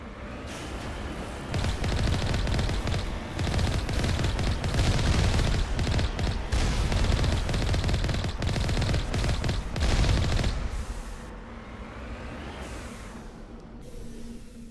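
Rapid gunfire rattles through a Mass Effect video game firefight in a lab, dense bursts of automatic shots and impacts for about nine seconds, then easing into quieter ambient rumble and scattered sounds.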